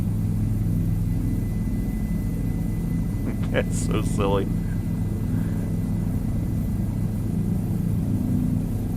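A helicopter in Microsoft Flight Simulator 2020 hovers near the Washington Monument with a constant low rotor rumble and whine, steady throughout while a voice briefly speaks over it.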